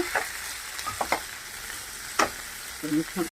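Cut okra sizzles steadily in a pan with onion and tomato, with a few louder scraping stirs near the start and middle and a clattering stir at the end, close and alone.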